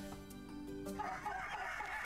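Agitated hens in a fairytale-style video game cluck in quick, close bursts, starting with a pitched squawk and settling into busy, continuous clucking.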